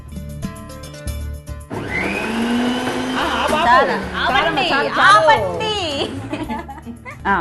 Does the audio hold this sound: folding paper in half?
no